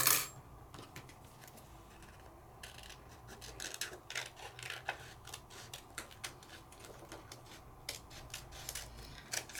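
A Big Shot die-cutting machine cranks paper flower and leaf dies through its rollers, a dense run of close ratcheting clicks and rasps continuing steadily throughout.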